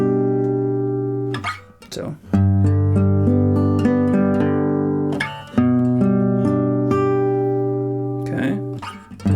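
A guitar barre chord is strummed, with three ringing chords that each sustain and slowly decay, close and clear, and a brief spoken word between them.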